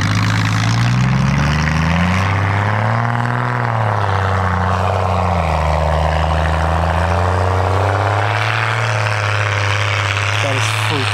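A dually mega Jeep roars past nearby, its loud engine note rising and falling with steady low harmonics throughout as it drives by.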